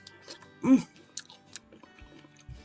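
Crisp crunching bites into homemade pizza crust, one loud close crunch followed by a few softer chewing clicks, in a quiet kitchen without talk.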